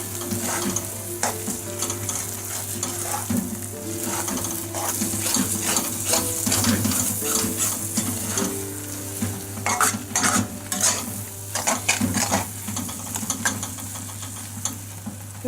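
A spatula scrapes and stirs thick paneer masala in an oiled pan over a low flame, with a steady soft sizzle underneath and repeated sharp scraping strokes that grow busier toward the end, close and with no talking.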